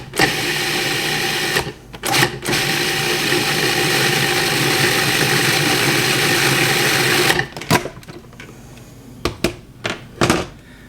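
Food processor pulsing vegetables to mince them, a long loud grinding whir broken by short stops, then several brief sharp pulses at the end.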